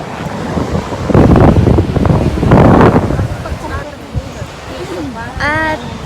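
Strong wind at the beach buffets the microphone in loud, gusty roaring bursts over distant surf, and voices chat briefly near the end.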